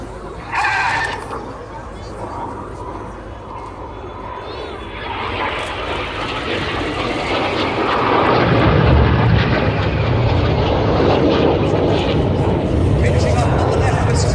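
Red Arrows jets flying the Cyclone manoeuvre at an airshow, a loud continuous roar of jet engines that swells and deepens as the aircraft pass, with a commentator talking over it.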